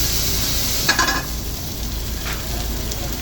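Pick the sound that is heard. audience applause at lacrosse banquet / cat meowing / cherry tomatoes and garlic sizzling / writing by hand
cherry tomatoes and garlic sizzling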